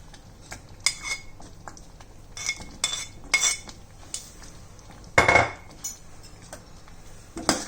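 Spinach (palak) stirred in a cooking pot with a utensil, giving scattered metallic scrapes and clinks against the pot at irregular intervals, one louder scrape partway through, with no talking.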